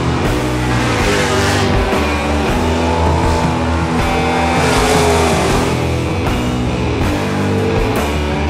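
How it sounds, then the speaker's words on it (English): Dirt track race cars at Valley Speedway roar in a dense, continuous pack, engines wailing and rising and falling through the laps, loud and close throughout with no speech over them. "One of the best races of the night comes from the 68 of Dean Willey and the 28 of Chris Kircher"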